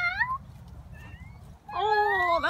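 A cat meows twice, a short rising-falling call first, then a longer, louder meow after a pause, heard close up over low background rumble.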